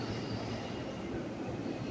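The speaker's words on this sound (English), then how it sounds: "A shuttle train to Grand Central." A subway shuttle train running to Grand Central inside the underground Times Square station gives a low, steady rumble with a faint hum, moderately distant and continuous over a brief stretch, no talk.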